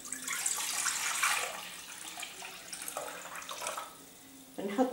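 A kitchen tap runs into a sink as calf brain is prepared for kefta, a loud continuous splashing hiss that shifts and eases before surging again near the end.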